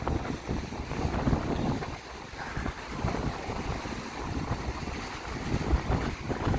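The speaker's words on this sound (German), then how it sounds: "Wie man hört, ist es mal wieder windig." Steady, blustery wind roars and buffets the microphone throughout, with a broad rumbling wash and gusty swells, no voices heard, on the peninsula at Punta del Este, Uruguay.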